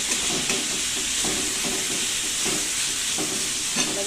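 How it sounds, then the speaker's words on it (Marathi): Shredded cabbage fries on a high gas flame, giving a steady, close hiss and sizzle with faint stirring scrapes at intervals, and no voices. "कोबी टाकून घेऊया। आणि गॅस मोठाच ठेवायचा आहे। थोडस फ्राय करून घेऊया।"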